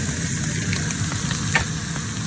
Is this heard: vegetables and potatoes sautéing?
yes